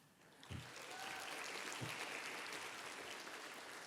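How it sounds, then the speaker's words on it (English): Quiet, dense applause from an audience at a college of education pinning ceremony, honoring graduate-level honorees. It is a steady, distant wash of clapping with a couple of low thumps near the start. "Let's also give a round of applause to the 19 graduate level honorees."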